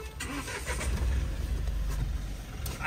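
A Mahindra Bolero engine runs steadily with a low, rumbling idle-like hum and faint mechanical rattle, close and constant throughout, with no talk.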